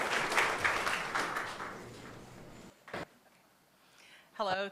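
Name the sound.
audience applause at a town hall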